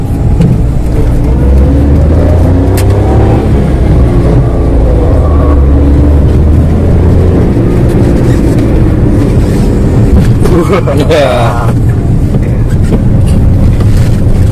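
A 2012 Suzuki Karimun Estilo drives on a test run, its engine drone loud and continuous with a rising rev partway through, while wind and road noise fill the cabin.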